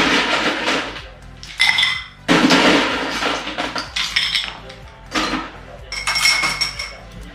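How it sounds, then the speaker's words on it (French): A Suze Tonic cocktail glass being topped up, with bursts of pouring and ice rattling plus bright glassy clinks and knocks, close and loud without talk. "je viens compléter le verre"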